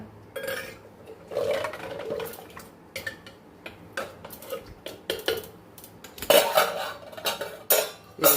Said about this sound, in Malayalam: ഒന്ന് അമരിക്ക ഇട്ട് കൊടുക്കേ ഒന്നിളക്കി കൊടുക്കുക